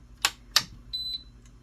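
A five-blade socket fan is switched on: two sharp clicks come first, followed by a short, high electronic beep and a fainter second chirp, all quiet and close.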